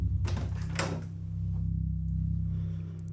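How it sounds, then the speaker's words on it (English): A house's front door opens with a brief click and creak followed by a soft thud, set against a steady low hum. "they let themselves in the front door"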